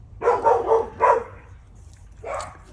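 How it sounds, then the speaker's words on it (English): Several dogs barking a few times in quick succession, then a pause before one more bark, fairly loud and close, with no talking over them. "there's the dogs doing their thing again."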